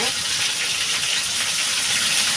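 Bitter gourd and potato frying in hot oil in a home kitchen: a steady, loud, close sizzle with a broad hiss that holds unbroken throughout.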